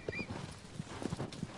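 Horse hooves clip-clop in a steady rhythm in the Shadow of the Colossus remake video game, fairly faint and close, with no talk.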